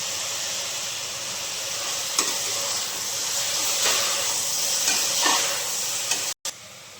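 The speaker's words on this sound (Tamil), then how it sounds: "இது நல்லா கொஞ்சம் கோல்டன் கலர் வர வரைக்கும் நல்லா வதக்கணும்" Onions and tomatoes sautéing in a pan for road-side kadai salna, giving a steady close sizzle with a few stirring clicks and a brief cut near the end.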